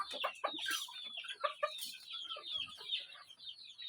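Desi country chickens, a batch of young hens and roosters about four and a half months old, cluck and chatter continuously at close range, with overlapping calls from several birds and no talk.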